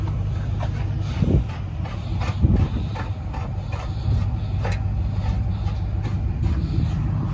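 Tow truck idling loudly as a stranded Subaru WRX is loaded onto it at the roadside, with a steady diesel rumble and scattered clanks and clicks of chains and the loading gear.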